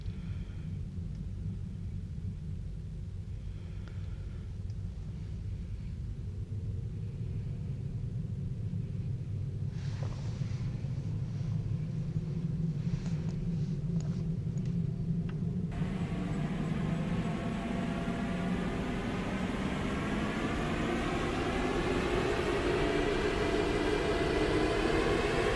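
A Tesla Model 3 spins on a dynamometer test bench, a continuous deep rumble and drone with a whine that climbs steadily in pitch as it speeds up during a test run, loud and close throughout.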